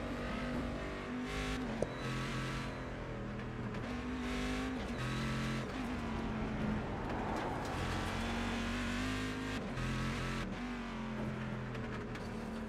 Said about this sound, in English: the sound difference between the Aston and the Corvette is quite different